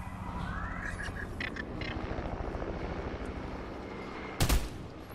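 Helicopter rotor drone in a shooter video game, a steady low thrum running through the whole stretch with faint clatter, then one loud sharp burst near the end, no speech.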